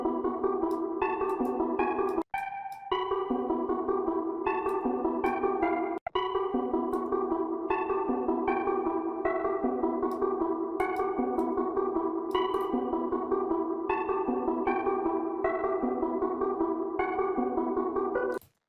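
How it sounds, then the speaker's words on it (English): A simple, pretty top melody plays over a hard trap beat, looping steady bright synth notes with chorus and echo effects; it sounds loud and continuous, with two brief dropouts near the start and no talking. "I'm just gonna add like a pretty simple top melody here"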